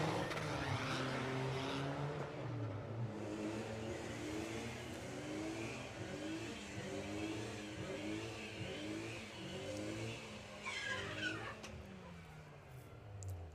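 An Audi and a VW Golf drag race down the strip at a sportsman nationals event, engines revving and accelerating in a sustained roar with pitch sweeps, captured faint and distant.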